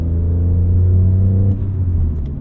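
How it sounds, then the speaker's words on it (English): A BMW E46 M3 with the S54 engine droning under load, a deep steady engine rumble that swells then eases off, loud and close inside the car. "S54 screams at the top."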